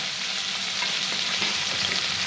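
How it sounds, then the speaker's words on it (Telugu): Chopped ingredients for green chilli chicken fry in a pan with a spoonful of salt until browned, making a constant close sizzle with faint stirring scrapes and no voices. "సో ఇది బాగా కొంచెం బ్రౌన్ కలర్ వచ్చేదాకా వేయించుకోండి"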